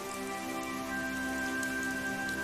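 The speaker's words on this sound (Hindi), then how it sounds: "बरसात अब धीरे धीरे हल्की हो जाती है" Steady rain falls outside a roadside tea shop in a Hindi cartoon story, an even, continuous patter with no voices, layered over a sustained tonal background score.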